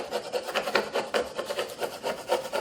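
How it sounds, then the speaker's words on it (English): Rhythmic rubbing strokes of a burnishing tool pressed over transfer tape on a Cricut Joy vinyl project, a steady back-and-forth scraping repeated about a dozen times, close and clear with no voices. "we're going to burnish it down once again."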